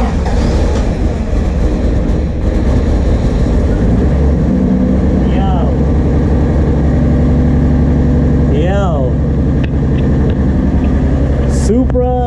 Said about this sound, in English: Supra is running.